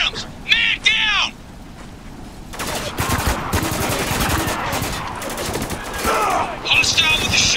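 Rapid gunfire erupts in Spec Ops: The Line during the Battle of Dubai sandstorm, dense bursts of shots running several seconds after calls of a bird and shouting voices.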